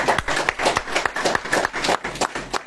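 An audience at a poetry festival in Raebareli, Uttar Pradesh, claps in a short uneven burst, moderately loud and close, with a few louder individual claps standing out.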